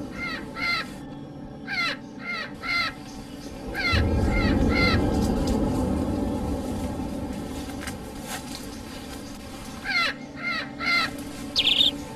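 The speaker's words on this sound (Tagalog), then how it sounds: "ibon yata yun ha." Repeated harsh caws from a bird in short bursts, moderately loud, with a rushing background noise swelling in the middle.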